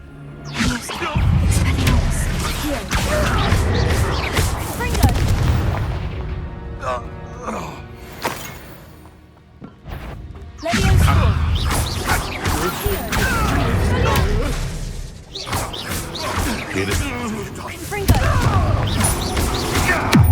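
Loud blasting spell explosions in the Hogwarts Legacy video game: repeated booming bursts and crashing impacts in dense stretches, broken by short quieter pauses, with a voice talking in between.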